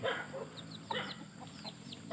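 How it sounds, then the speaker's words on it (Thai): A seven-month-old chicken perched up on a roof clucks in a series of short, fairly close calls spread across a couple of seconds, with a louder call at the end, in an outdoor farm setting. "ปิดคลิปด้วยไก่ตัวนี้ครับ นี่ ขึ้นบนหลังคาครับ ลูกไก่เจ็ดเดือนเจ็ดเดือนกว่าๆแล้วครับ"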